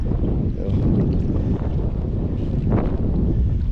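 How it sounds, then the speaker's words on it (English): Strong wind buffets the microphone on a beach during a morning metal-detecting walk, a loud, continuous low roar with gusting swells and no voices. "pardon the wind blowing. Sorry if it's a little loud."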